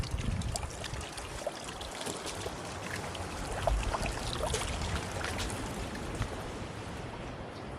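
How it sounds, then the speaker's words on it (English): Tiny waterfalls trickle and splash down beach cliffs near Ilfracombe, North Devon: a steady broadband wash of falling water with light spattering, no voices. "Look at this tiny waterfalls here and there."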